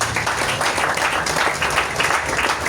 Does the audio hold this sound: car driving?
no